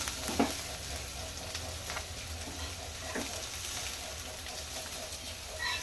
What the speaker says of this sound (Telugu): ఇప్పుడు అదే ప్యాన్లో అది చల్లారేలోపు పోపు వేసుకున్నాను